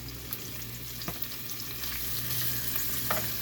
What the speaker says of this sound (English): Oh, I can hear it sizzle already.